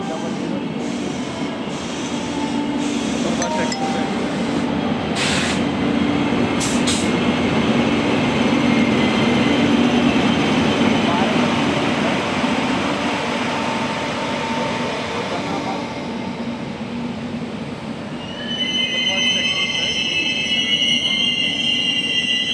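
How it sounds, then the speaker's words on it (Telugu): A passenger train running along the rails, heard as a loud continuous rumble and clatter with high wheel squeal near the end, steady and close throughout. "అక్కడి నుంచి ట్రైన్ వెళ్తుంది,"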